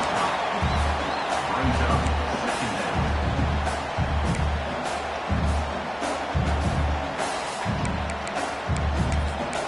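Home crowd at a Maryland college football game roars in a dense, continuous wash of cheering and noise, heard from a distance with regular low thuds underneath throughout.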